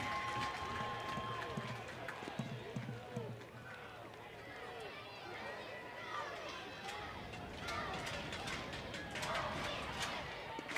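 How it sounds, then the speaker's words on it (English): Crowd noise at a Kentucky Wildcats versus South Carolina Gamecocks NCAA men's soccer match, steady broad roar and cheering from the stands with a commentator talking over it throughout. "And the crowd are enjoying this."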